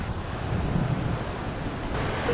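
Rumbling sea waves at Montego Bay, Jamaica, near an airport: a steady, loud wash of surf with wind noise buffeting the microphone, continuous throughout with no break.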